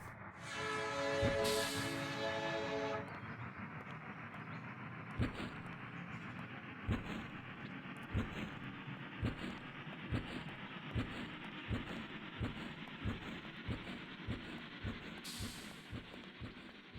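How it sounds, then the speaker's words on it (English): A train departs a station in the video game Amok Runner: a loud horn blast opens, then a steady clickety-clack of wheels over rail joints settles into an even rhythm, with a brief hiss near the end. "Hurry up, the train's about to leave."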